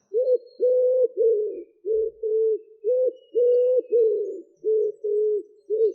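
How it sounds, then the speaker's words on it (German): A pigeon cooing close by, a steady series of low, rolling, even coos repeating in a regular rhythm over about six seconds, loud and clear against a quiet background. "Die Taube gurrt."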